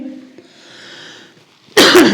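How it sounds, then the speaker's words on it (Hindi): A single sharp cough bursts out near the end of a maths lesson, loud and close, after a stretch of quiet room hum. "खांसी क्यों आ रही है"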